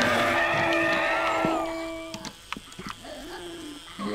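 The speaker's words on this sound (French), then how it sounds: "c'était un chien" A dog growls and whines in the game 7 Days to Die, a drawn-out tonal whine giving way to rougher, lower grunts at moderate volume.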